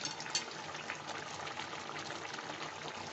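Chicken reshmi curry boiling in a pot gives a faint, steady bubbling and hissing wash, continuous and quiet, with no voices.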